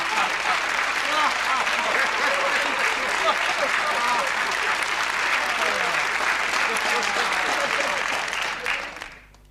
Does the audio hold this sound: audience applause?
yes